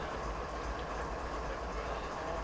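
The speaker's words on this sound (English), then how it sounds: "There's a train heading off to the... This would probably be the north." Steady rumble of a train rolling along the line in a train simulator game set around Whitefish and Marias Pass, a continuous dense low roar with faint rail clatter and no voices.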